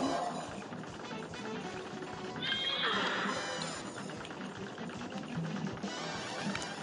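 A horse whinnies in the Cuphead video game, a bright shrill neigh rising in the middle of busy game music and effects, with faint clip-clop hoofbeats around it.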